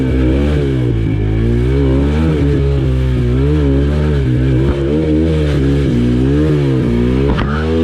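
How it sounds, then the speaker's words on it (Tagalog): Motorcycle struggling along a rough, rutted road, its engine revving steadily and loudly throughout while a faulty drive chain clatters and knocks beneath, with no talking. "Dinig ko kasi ang kadena, lumalagotok, mukhang may problema."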